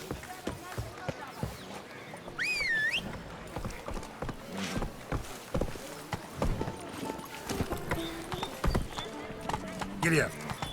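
Horse hooves pounding at a gallop in The Witcher 3: Blood and Wine, a steady driving clatter with a whinny partway through, mixed with game sounds and talking.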